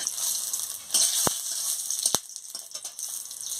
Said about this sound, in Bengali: তেল গরম হয়ে গেছে, আমি শুকনো লঙ্কাটা দিয়ে দিচ্ছি।